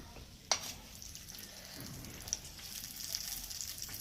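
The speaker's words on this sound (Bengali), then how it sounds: "ফোড়নটা আমার হয়ে গেছে ভাজা। এবার আমি চাটনির মধ্যে ঢেলে দেবো।" Whole spices and seasonings for a tempering sizzle in hot oil as they are poured into chutney, a faint, steady frying hiss with a couple of sharp spits and clinks.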